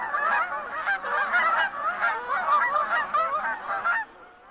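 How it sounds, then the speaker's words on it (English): A flock of geese flying in lines or V formation honks loudly and continuously, overlapping calls in a dense chorus that cuts off abruptly near the end. "Many fly in long lines or V formations, calling loudly as they go."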